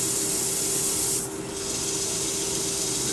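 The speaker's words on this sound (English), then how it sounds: "Sand this off." A sycamore wood blank is sanded with a powered tool, giving a steady broadband rasping rub that stays loud and continuous throughout, dipping briefly near the middle, with no talking.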